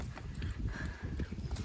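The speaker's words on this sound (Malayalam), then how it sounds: "ഇതേ കണ്ടോ കുതിര." A horse's hooves clip-clop steadily at a traditional-style resort, a quick, faint rhythmic patter of muffled steps heard close by.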